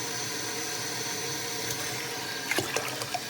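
Water runs or pours in a kitchen while bagels are being made, a steady broadband hiss that continues throughout, with a few sharp clinks and splashes near the end.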